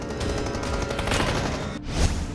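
PUBG video game gunfire crackles as a rapid burst of shots over a dense, noisy background, with a sharper report near the end.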